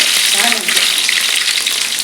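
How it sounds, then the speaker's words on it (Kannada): Steady, crackling sizzle of mustard seeds frying in hot oil for a tempering, with faint popping, close and fairly loud, no voices. "ಇದು ಎಣ್ಣೆ ಇಟ್ಕೊಂಡು ಸ್ವಲ್ಪ ಸಾಸಿವೆ ಹಾಕ್ತೆ, ಒಗ್ಗರಣೆ ಹಾಕುವ."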